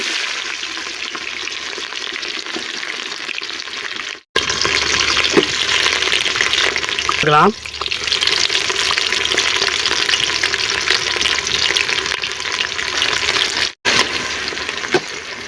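Steady, loud sizzling of onions and fennel frying in hot oil, with a brief stir or scrape partway through and short gaps.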